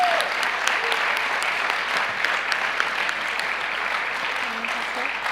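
Audience applause at a 2018 certificate ceremony for Rhema students in Oron, a dense, steady clapping from a crowd that holds evenly throughout, with a voice briefly heard near the start.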